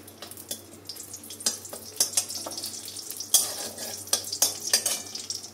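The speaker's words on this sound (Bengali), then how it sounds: "তেলটা গরম হয়ে গেলে লঙ্কা ফোড়ন দেব" Chillies tempering in hot oil in a kadai make a close crackling, spattering sizzle punctuated by quick scraping stirs, rising in intensity, with no one speaking.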